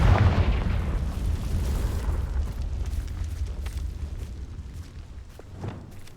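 A fire spell blast in a wizarding action game lands as a heavy, deep boom that rumbles and decays over several seconds, followed by a faint crackle of debris and a small late thump.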